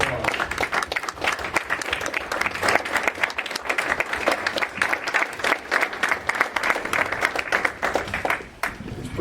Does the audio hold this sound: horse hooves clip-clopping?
no